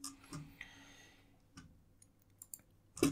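Sparse, sharp computer mouse clicks at irregular intervals, quiet and close, with faint handling noise between them and no speech.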